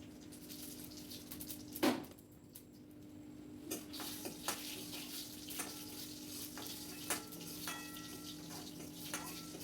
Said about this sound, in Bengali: এর মধ্যে আমি একটু শুকনো লঙ্কা আর একটু রাঁধুনি ফোড়ন দেবো প্রথমে।